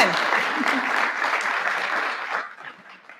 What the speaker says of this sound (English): let's give another round of applause to our winners